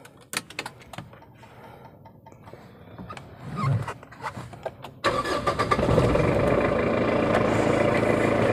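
A 1999 Mitsubishi Pajero 3.5 with manual transmission is started up: a few seconds of close clicks and rustling inside the cabin, then the engine catches abruptly and settles into a steady, fairly loud idle.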